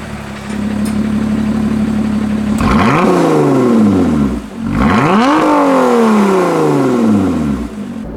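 A Lotus Evora 400 in sport mode, engine idling steadily and then revved twice in sharp blips, each rising and falling away before settling back to idle, close and loud.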